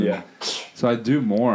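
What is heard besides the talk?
sneeze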